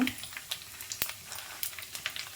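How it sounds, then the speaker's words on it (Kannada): Cumin seeds fry in oil in a pan, sending out faint, scattered sizzling pops and crackles at an irregular pace, close by and quiet, with no speech. "ಸೀದು ಹೋಗಬಾರ್ದು ಆ ರೀತಿ ಫ್ರೈ ಮಾಡ್ಕೊಳ್ಳಿ ಈಗ"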